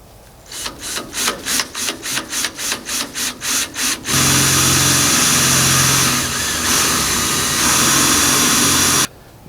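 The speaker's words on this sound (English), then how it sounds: "let me go ahead and drill this out right now" A power drill bores a mounting hole for a Minn Kota Riptide Terrova trolling motor mount, first in a run of short rhythmic bursts, then in one long continuous loud whine that stops abruptly.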